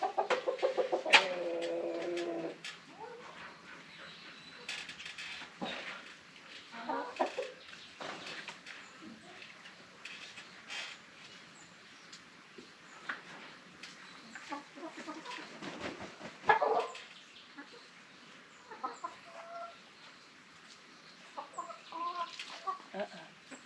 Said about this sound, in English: leave the chickens alone, Lulu and Punky.